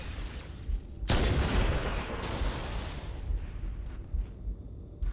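Grenade explosions in Halo CE roll out as deep booming blasts, one sudden loud burst followed by a rumbling, noisy tail of continuing battle sound.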